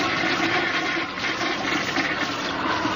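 An old, temperamental toilet flushes with a steady, loud rush of water that holds strong for about three seconds, close by and with no talking.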